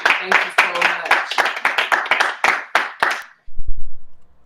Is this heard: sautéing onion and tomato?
no